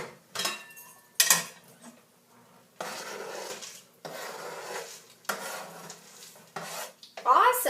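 Chopped cashews go into a pot of vegetarian chili with a rough, sustained scraping and rubbing, like a wooden spoon working against the pot in several long strokes, ending in a louder clatter.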